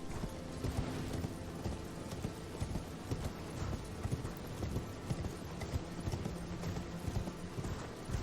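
Horse hooves gallop in a steady, driving clip-clop rhythm through the rainy Altus Plateau in the video game Elden Ring, moderately loud and continuous with no voice over it.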